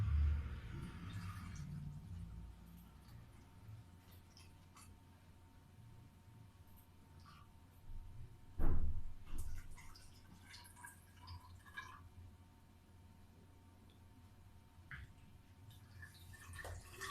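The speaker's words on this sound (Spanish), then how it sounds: "procedemos a llenar los 250 centímetros cúbicos de agua" Water, about 250 cubic centimetres, is poured into a plastic graduated cylinder in a construction materials lab. It makes a faint, steady trickle with a few scattered drips and one brief louder splash midway.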